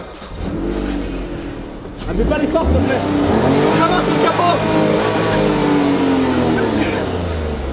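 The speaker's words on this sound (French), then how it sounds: "on va écouter le bruit du moteur" A car engine revs hard in loud, rising bursts, then holds a steady high-pitched drone close by, while people talk and exclaim over it.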